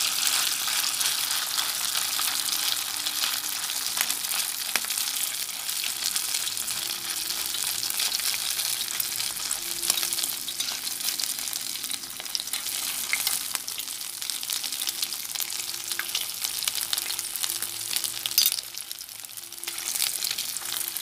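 Pork tod man fish-cake-style fritters fry in hot oil over low heat with a steady, dense bubbling sizzle. The sound is close and continuous with no talking.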